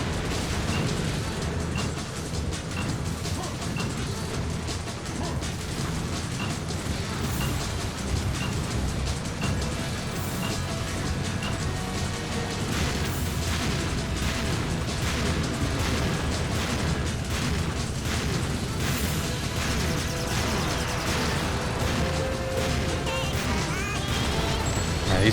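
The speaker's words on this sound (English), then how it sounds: "Oh, crap, this thing's gonna explode" Explosions and crashing blasts in Serious Sam 2 amid heavy combat against turrets: a continuous, loud wall of booms and bursts over the whole stretch, with sustained rumbling and no clear pauses.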